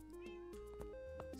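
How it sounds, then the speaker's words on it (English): A cat meows inside the Minecraft game, with several short tonal calls and sliding pitches over steady background game music and sound, heard close and clear. "Are we listening to cat right now?"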